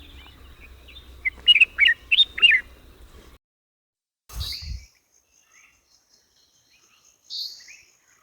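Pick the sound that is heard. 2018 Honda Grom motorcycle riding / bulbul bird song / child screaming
bulbul bird song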